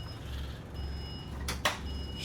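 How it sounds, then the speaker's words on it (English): A warning alarm in a bus driver's cab sounds as a repeating electronic tone in steady pulses over low engine rumble, with a brief clunk near the end. "Just turn this warning alarm off in the cab."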